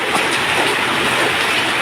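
Heavy rain falls in a loud, dense, steady hiss and roar, unbroken and close, with no voices.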